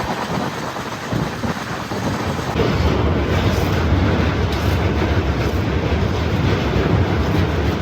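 Dense, steady rumble and rattle from inside a moving train on a trip from NJP through East Sikkim, loud and continuous with no break.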